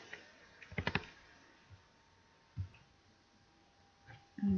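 A computer keyboard is tapped to enter a command at a prompt, with a quick cluster of clicky keystrokes followed by a few isolated, faint taps.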